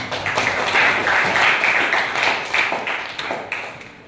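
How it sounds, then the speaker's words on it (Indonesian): A class claps for a student in a classroom: a dense burst of many hands clapping together, loud and near, fading toward the end. "kita kasih aplaus dulu untuk Dipa"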